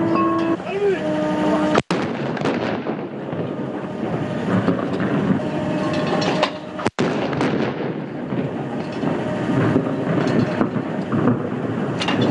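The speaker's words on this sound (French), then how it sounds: "64 coups de canon ont été lancés, marquant cet anniversaire par un détachement de la garde républicaine." A Republican Guard detachment fires a 64-gun cannon salute in Algiers for an anniversary ceremony, producing heavy, continuous booming rumble that fills the scene at a steady, loud level.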